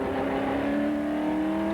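A race car engine at roughly 165 to 170 mph, a steady high-pitched drone that holds evenly throughout, loud and close as if heard from the cockpit.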